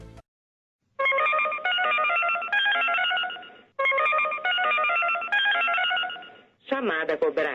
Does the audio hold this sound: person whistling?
no